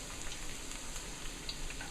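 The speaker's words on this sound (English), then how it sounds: "So this is what they look like when they're frying." Salmon potato latkes fry in hot oil with a steady, even crackling sizzle, close and continuous, with small pops scattered throughout.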